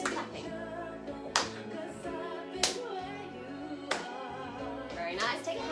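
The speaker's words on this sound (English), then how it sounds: "let's do some clapping" Rock Choir members clapping their hands during a warm-up, a few sharp, separate claps spaced over a second apart under music and a leader's voice.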